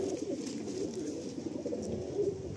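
Soft, low cooing from Madrasi and Giribaj pigeons, repeated in gentle rolling phrases over a quiet background.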